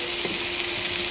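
Vegetables seasoned with salt and turmeric fry in a pan, giving a brief, even sizzling hiss at close range.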